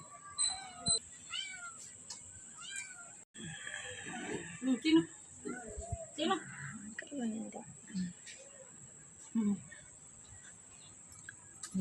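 A cat meows several times in short, scattered calls, with soft insect chirps and quiet background sounds in between.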